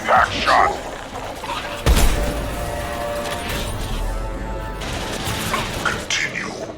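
Impact Shot ability fired in Mass Effect 2, a sharp blast around the two-second mark followed by crackling game combat noise and effects, with voices talking early on.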